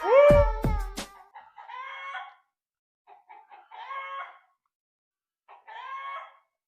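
A rooster crows loudly at the start, followed by several quieter bursts of hens clucking with silent gaps between them.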